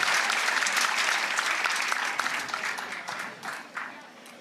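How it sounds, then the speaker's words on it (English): Pickleball players tap their paddles together in a brief burst of clapping during a professional doubles match at the Selkirk Kansas City Open, and the patter fades over a few seconds. "Paddle clap from Anna Leigh there."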